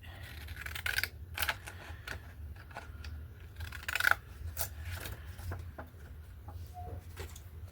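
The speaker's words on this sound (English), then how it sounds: "These scissors are good in theory, but I never make a straight line." Scattered crisp snips and rustles of scissors cutting paper for journal embellishments, irregular and close, with quiet gaps between cuts.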